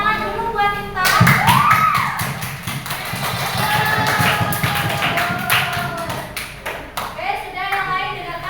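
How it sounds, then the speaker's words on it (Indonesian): A classroom of students claps for Intan, starting with a sharp burst of many hands that settles into brisk, uneven clapping over several seconds, close and lively, with a teacher's voice and children's chatter mixed in. "Tepuk tangan dulu buat Intan."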